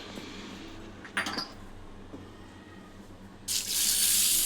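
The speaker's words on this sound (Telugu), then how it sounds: "ఎర్రపప్పు ఒక రెండు సార్లు కడుక్కోవాలి" Water runs from a kitchen tap into a sink while red lentils (masoor dal) are rinsed, giving a steady splashing stream with brief bursts and a louder gush near the end.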